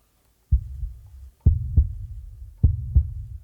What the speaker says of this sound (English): it's called Heartbeat, and it's just this really kind of pulsing beat that I like to